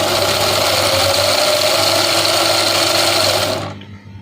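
An electric motor in an Austar clone of an Axial SCX10ii RC crawler running at half throttle on a 2S battery, a steady high whine held for several seconds before cutting off and spinning down to silence.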